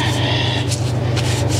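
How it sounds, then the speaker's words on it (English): Hands are wiped clean of tar remover with a rag, producing close, steady rubbing with a few rougher swipes, over a constant low hum. "Clean it with a rag."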